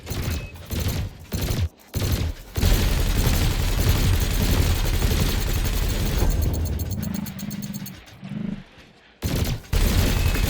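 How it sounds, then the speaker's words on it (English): Laser and cannon fire in the Elite Dangerous space game, coming as loud rapid bursts that start and stop, with sustained volleys and a few short pauses between them. "Meanwhile, your laser will fire until the capacitor is depleted, at which point it will need to recharge"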